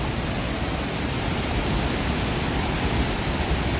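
Water pouring down the Pla Ba waterfall, its pool muddy and reddish, makes a steady, even roar of rushing water that fills the whole stretch with no voices.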